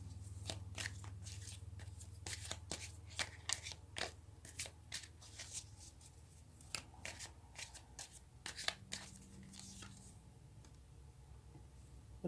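Tarot cards are shuffled by hand close up, a quiet run of quick papery riffles and flicks in uneven bursts, with a faint low hum underneath and no talking.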